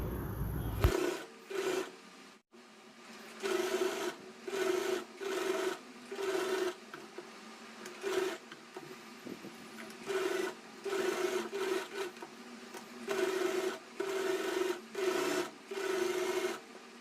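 A sewing machine stitches silk saree panels for an Anarkali dress in short, evenly repeated bursts of rapid whirring, each lasting about a second with brief pauses between, close and fairly quiet.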